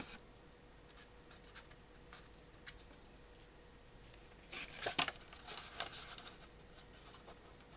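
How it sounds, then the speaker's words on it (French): Small scraping and snipping sounds of scissors trimming paper frames, scattered at first and then a denser flurry of crisp cuts and rustles, close and quiet. "avec mes ciseaux, leur redonner une forme un peu plus convenable."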